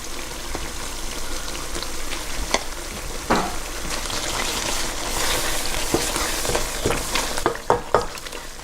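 Lobster sauce thickened with cornstarch sizzles in a hot pan while being stirred, a loud close bubbling hiss broken by scraping and clinks of the utensil, with no talking.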